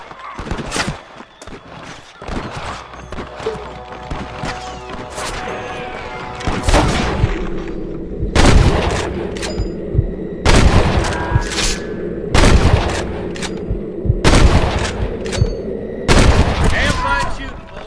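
A Red Dead Redemption shootout brings loud, booming gunshots in irregular bursts, some close and heavy, mixed with distant shots, horse sounds and occasional shouted voices.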